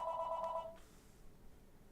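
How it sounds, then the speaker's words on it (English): A landline telephone rings once in a short electronic trill that cuts off abruptly after under a second, leaving only faint room hiss. "Wait for the phone to stop ringing."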